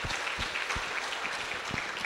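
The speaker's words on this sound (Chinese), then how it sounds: "再次掌声感谢徐立勇带来的精彩演讲" Audience applause after a Python on FreeBSD conference talk at PyCon Taiwan 2012, a steady wash of clapping from a moderate-sized room with a few louder individual claps standing out, no speech over it.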